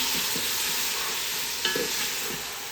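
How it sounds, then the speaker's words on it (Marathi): Mutton stirred in a frying pan for mutton masala gives a steady soft sizzle with a few muffled scraping strokes of a spoon, close up and with no voices. "नुसतं ढवळून घ्यायचं"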